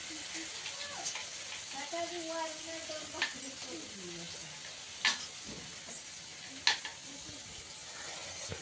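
Barnyard millet (bhagar) frying with chillies in a pan, a soft steady sizzle broken by occasional scraping stirs, with a person talking over it.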